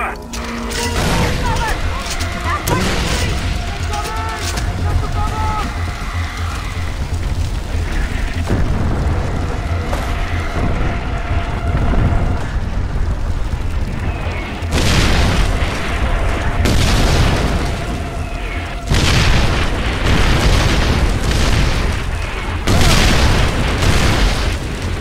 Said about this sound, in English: artillery incoming